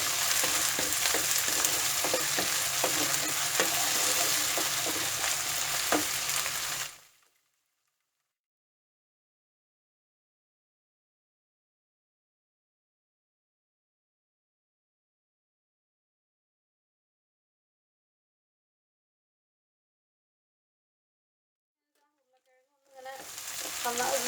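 Potatoes fry and sizzle in a pan for a potato and beans dry curry, crackling briefly before the sound drops to silence and then returns faintly near the end.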